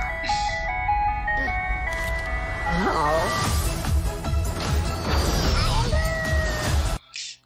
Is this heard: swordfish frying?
no